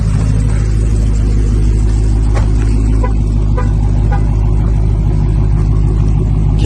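SRT muscle car engine running loud and close, a heavy, steady low rumble that holds for nearly seven seconds with no talking.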